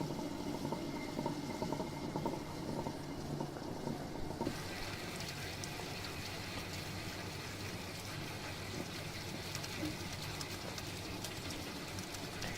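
A wet grinder churns grated coconut, leftover cooked rice and sugar into appam batter, a steady dense whirring and sloshing rumble that continues unbroken throughout, with a brief shift in texture partway in.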